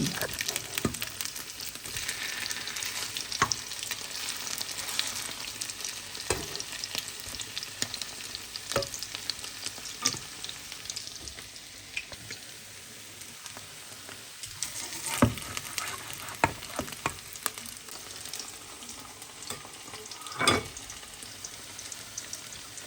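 Continuous crackling and sizzling of potato pancake batter frying in hot oil in a pan, with occasional sharper pops and spatters throughout.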